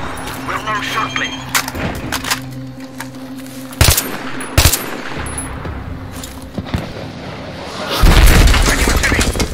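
Gunfire and explosions in the Battlefield 3 campaign mission Kaffarov: sharp booms punctuate a steady mechanical hum, with a big burst near the end, while voices talk over the action.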